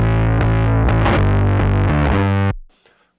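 A fuzz distortion plugin pushed into a thick, buzzy synth-like tone, heavily distorted and sustained with shifting pitches for about two and a half seconds before cutting off abruptly into a faint tail.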